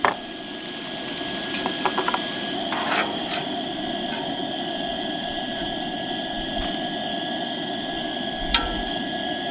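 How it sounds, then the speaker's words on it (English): Battered onion rings fry in hot oil, giving a steady, close, loud bubbling sizzle that runs throughout with a few brief clicks on top and no talking. "Rings are frying."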